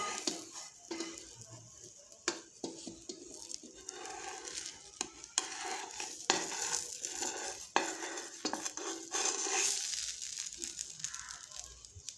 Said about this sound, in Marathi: आपण या डोशाला पलटी देऊन घेऊ